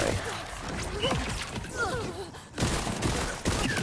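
Bursts of rapid gunfire and crashing impacts in the video game Borderlands 4, dense and chaotic over a busy combat soundscape, loud and continuous with a sharp surge partway through.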